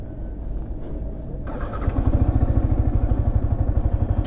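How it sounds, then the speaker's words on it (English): A motorcycle engine catches and settles into a steady idle, its low rhythmic exhaust pulses growing stronger and continuing evenly, close and fairly loud with no talking. "Start the bike and let it run for 3 to 5 minutes in idle position."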